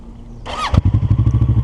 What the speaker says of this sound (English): So the bike started, it's a neutral.